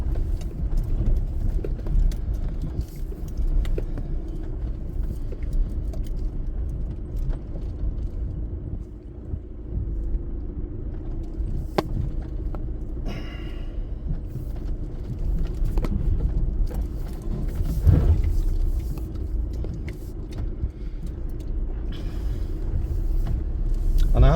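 Two-litre TDI diesel engine of a Skoda Yeti idling in first gear on a rough green lane, a steady low rumble running throughout at close range with faint knocks and clatter on top.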